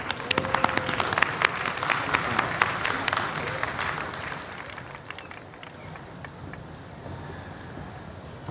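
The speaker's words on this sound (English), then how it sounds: "Let's give him a big round of applause." A large crowd at a world cultural festival in Washington, DC applauds to welcome a speaker. Loud, dense clapping swells for about four seconds, then fades into scattered claps and distant crowd noise.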